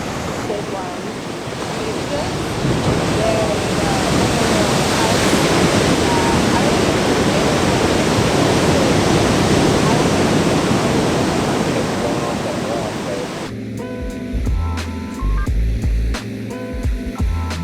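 Ocean waves crash and roar below a clifftop in rainy, windy weather, a loud continuous wash of surf with wind buffeting the microphone, which gives way to rustling handling noise near the end.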